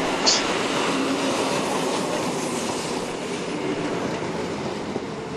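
A steady rumbling roar of a passenger train in motion in the Médoc, France, heard from inside a carriage, with constant wheel and rail noise and no talking.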